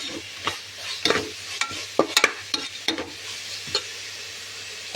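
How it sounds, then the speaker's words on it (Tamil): A paste of ginger and garlic fries in a pan while a spoon stirs and scrapes it, giving short intermittent clatters and scrapes over a soft, steady sizzle under a low mains hum. "இப்போ அரைச்சி வச்சு இஞ்சி பூண்டு பேஸ்ட்டை போடுவோம்."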